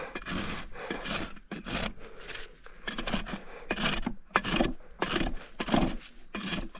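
A slightly dull rasp files a barefoot horse's hoof in repeated rough, scraping strokes at an even rhythm, close up, with short pauses between passes.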